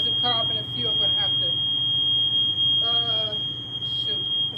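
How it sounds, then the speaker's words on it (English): A smoke alarm shrills with a steady high-pitched tone while cornbread bakes in a cast-iron skillet on a home stove, loud and unbroken beneath a low kitchen hum, with a voice heard briefly. "As you see the alarm's going off, y'all."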